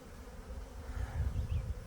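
Honeybees buzz around a hive being moved into a duplex, a steady low droning hum close by, alone without voices.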